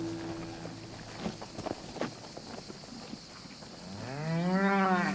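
Maremmana longhorned cattle, an ancient breed, low and moo loudly in open country. A long, deep moo swells near the end after quieter rustling and scattered thuds.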